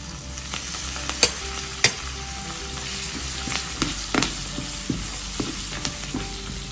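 Urad dal, asafoetida, dried chili and curry leaves frying in hot oil as a tempering for a Tamil pongal kuzhambu, a close crackling sizzle with sharp pops and spoon taps against the pan, steady throughout and without speech.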